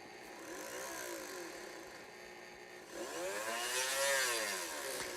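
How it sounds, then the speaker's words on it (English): An electric drill bores holes into sticks, its motor whining up and falling back in two separate bursts, the second louder and longer, with no voices. "I'll just drill into sticks many times"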